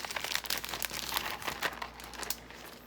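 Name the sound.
opening a crafting swap package, paper crinkling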